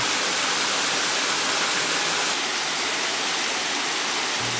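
A waterfall roars in a dense, continuous rush of falling water, loud and close, with no other sounds.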